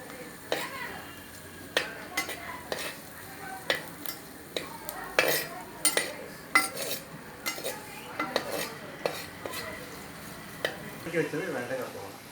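Ladies finger sautéed in a pan, with repeated close spatula clinks and scrapes against the metal over a soft sizzle, a voice speaking intermittently in between.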